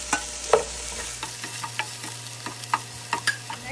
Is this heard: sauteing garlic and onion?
yes